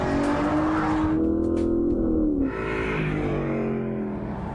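An Aston Martin sports car engine revs loudly and close, its pitch rising in a sustained pull before settling to a steady drone.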